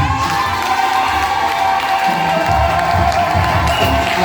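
A church congregation cheers and shouts loudly to acclaim their spiritual father, a continuous roar of voices swelling steadily with scattered whoops and clapping.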